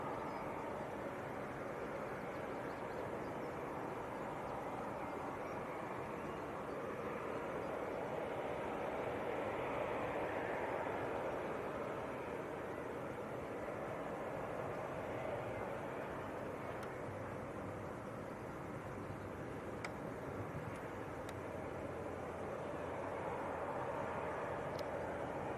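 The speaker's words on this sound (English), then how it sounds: "We have an inbound Ryanair about 5 miles out, coming in from Dublin, which will be another 737-800." A Ryanair Boeing 737-800 inbound from Dublin approaches Leeds Bradford Airport, its broad steady jet roar rising and falling gently over nearly half a minute, heard from a distance without any talk.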